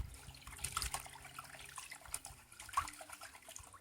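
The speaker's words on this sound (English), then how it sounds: "Put the water in, give a nice good shake, settle everything to the bottom." Water sloshes and splashes as dirt and water are shaken in a gold pan, a faint, irregular run of swishing and trickling close by with no talk.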